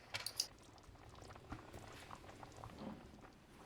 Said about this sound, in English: So let this simmer, and once it's ready we can pour it over those lovely luscious meatballs.